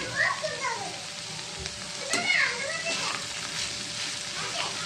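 Okra pieces frying in a pan with salt and turmeric, a steady soft sizzle with stirring scrapes and a voice chattering in the background.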